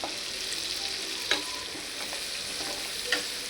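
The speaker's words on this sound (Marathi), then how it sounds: "हा मसाला मस्त भाजून घेऊया आपण तेलामध्ये" A masala of coconut, onion, garlic, coriander and curry leaves sizzles steadily in hot oil, a continuous close frying hiss with a couple of soft stirring scrapes, no talk.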